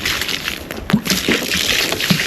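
Water splashes and trickles steadily, with a few louder sloshes, like watering plants up close, in rural St. Thomas, Jamaica.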